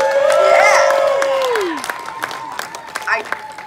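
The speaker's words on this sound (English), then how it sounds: "Pause for applause." Festival crowd at the Scarborough Renaissance Festival applauding a juggling act, with cheers and a whoop rising over the clapping; a performer's voice carries a long sustained call at the start before the crowd noise continues and tapers.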